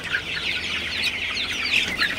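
Sonali super hybrid chickens in a hot, crowded shed, a flock clucking and chattering continuously at close range, with no one talking.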